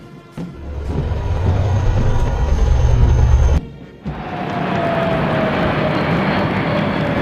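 Mi-35 and Apache helicopters flying in an arrow formation over a Republic Day parade on Rajpath, heard as a loud, steady engine and rotor roar that drops briefly and returns, with no voices.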